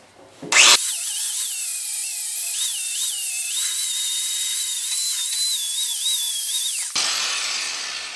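An angle grinder fitted with a flap wheel grinds a small spot on steel, its high whine starting abruptly, holding loud and steady with slight pitch dips under load, then cutting off.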